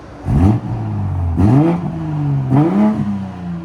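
A 2019 BMW X7 with a 3.0L TwinPower inline-six and straight pipes revs three times, each rise a loud, close, raspy surge settling back to a rumbling idle.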